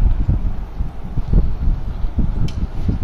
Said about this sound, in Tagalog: Ang lamig na simoy ng hangin.